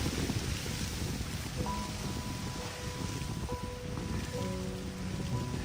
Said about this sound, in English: It's raining and very steep, and it's windy as hell.